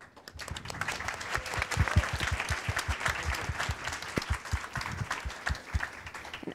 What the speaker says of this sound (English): give huge applause to our panelists